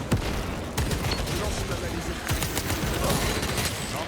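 Rapid gunfire crackles through a co-op round of Space Marine 2, bursts overlapping with sharp reports and a frag grenade going off amid the battle noise, fairly loud and dense.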